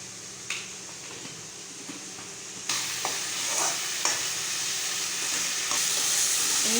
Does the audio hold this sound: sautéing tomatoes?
yes